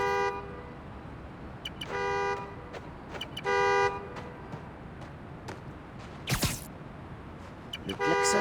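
Car horn in the Spider-Man Miles Morales video game, sounding in three separate honks of about half a second each over low city ambience, followed by a sharp burst and a final honk at the end.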